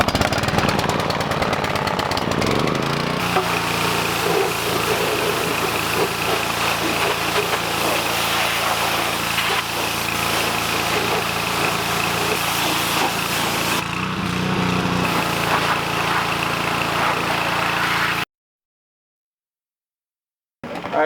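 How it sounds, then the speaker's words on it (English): A pressure washer blasting algae off swimming pool parts while an in-ground pool is being closed, running as a loud continuous motor drone with a harsh spray hiss, then suddenly cutting out near the end. "You have to do it with a pressure washer to get the algae off."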